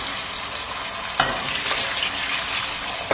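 Water poured into a pan of sizzling stuffing for Sète-style stuffed mussels, giving a loud, close, steady frying hiss with a sharp burst of crackle as the liquid hits and a few stirring scrapes.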